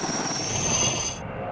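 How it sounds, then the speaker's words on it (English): Firefighting helicopter flying over a wildfire, a steady broadband rotor and engine roar held at a constant loudness throughout, with no voices. "Fighting the fire from the air, choppers,"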